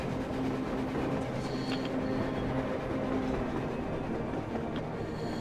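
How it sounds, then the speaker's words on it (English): A train rolls along on the surface in the video game Metro Exodus, giving a steady loud rumble with rhythmic rail clatter and metallic squeals throughout, with no talking. "Train! A damn train on the surface!"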